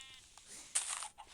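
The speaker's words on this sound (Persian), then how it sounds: "جدی گوسفند بود." Sheep in the One Block video game let out a brief, faint bleat against a low background.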